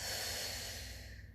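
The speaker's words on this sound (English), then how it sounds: "Breathing in" One long, audible in-breath through the nose from a person doing a Pilates exercise, close and fading out at the end, with no speech.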